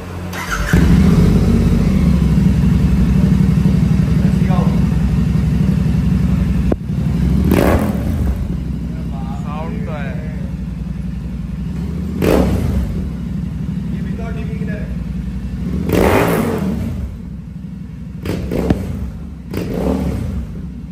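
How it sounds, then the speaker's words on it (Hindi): A motorcycle with an aftermarket exhaust and no dB killer idles loudly at close range with a deep rumble, broken by several sharp revs, while someone talks over it. "विदाउट DB किलर बारह लाइटर का एग्जॉस्ट लगाया अपन, ऑलमोस्ट गाड़ी रेडी है, इसकी आवाज़ सुना रहे थे आवाज"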